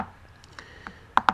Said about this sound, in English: you can select and then press Ctrl-Shift-C on the keyboard